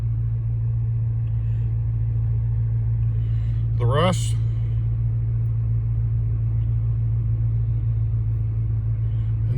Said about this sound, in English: The car's actually running right now.